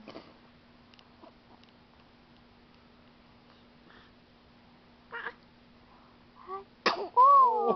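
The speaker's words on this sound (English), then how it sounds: "Oh, big sneeze." One big sneeze bursts out near the end of a mostly quiet stretch that holds only faint ticks and small rustles, and a short whining vocal sound follows it.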